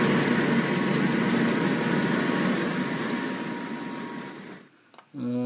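A blower with a V-belt slipping on a misaligned motor pulley drones with a steady mechanical hum and vibration, then cuts off abruptly near the end, followed by a brief voice.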